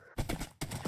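Horse hooves in Minecraft, two quick bursts of clip-clop footsteps heard close and clear with no speech over them.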